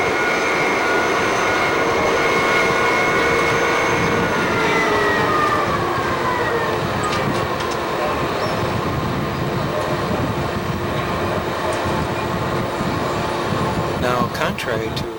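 Panama Canal locomotives, called mules, working at Gatun lock make a dense, steady mechanical drone with tonal whines and rumble, loud and continuous throughout, with clanks near the end.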